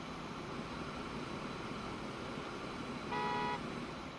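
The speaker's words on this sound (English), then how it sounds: "Only thing is, it has the most silliest horn. Sounds like a car horn." Horn of a simple Alco diesel locomotive in Transport Fever, hauling 48 tons of grain toward a station, sounding like a car horn: one short honk near the end, above steady engine rumble.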